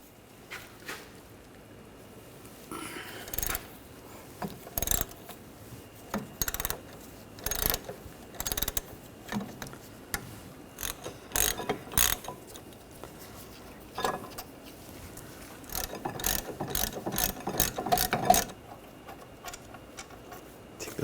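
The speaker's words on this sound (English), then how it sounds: "we'll take these two bracket bolts out. Use a 13mm socket." A ratchet fitted with a 13mm socket loosens the brake bracket bolts on the rear brakes of a 2013-2019 Ford Escape, giving repeated bursts of rapid clicking with short pauses between strokes, close by and with no talk.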